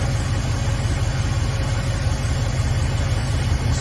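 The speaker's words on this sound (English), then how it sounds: "It run real good, sound good with some dual exhaust notes" A Dodge Charger engine, rebuilt and running with dual exhaust, idles steadily with a deep, rumbling low-end exhaust tone, continuous and fairly loud, with no talking.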